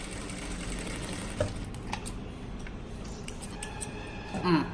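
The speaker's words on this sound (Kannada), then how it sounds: "ಇವಾಗ ಸ್ಟಿಚ್ ಮಾಡಿ ತೋರಿಸ್ತೀನಿ." A sewing machine stitches a fabric piping strip close by, giving a steady mechanical whir with light clicks and a few brief louder knocks.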